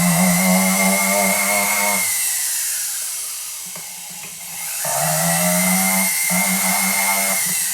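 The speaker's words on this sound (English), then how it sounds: "sanding thing on my flex shaft." A flex shaft sanding attachment grinds against a metal bangle, a loud high whine that drops away around the middle of the pass and then returns at full strength, with no talk over it.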